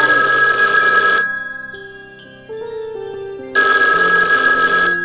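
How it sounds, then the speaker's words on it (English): A telephone rings loudly in a bedroom, two long bright electronic bursts separated by a pause in which soft background music plays. "the phone in the bedroom rang"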